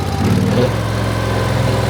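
The small engine of a Wolfe Ridge 17VS-C wood splitter runs at a steady loud drone close by, with a brief rise in pitch as the throttle comes up, outdoors on a winter night.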